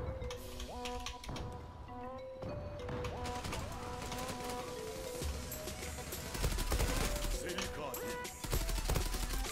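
Rapid AUG-A3 rifle fire in the online shooter Zula comes in quick bursts over game sound effects and tonal beeps, growing heavier and louder toward the end.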